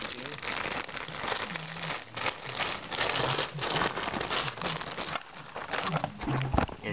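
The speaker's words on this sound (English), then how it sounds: "Just rip it out of the packaging." An HDMI cable ripped out of its plastic packaging during an unboxing, giving continuous close crinkling and crackling of plastic with sharp tearing bursts, a voice murmuring briefly underneath.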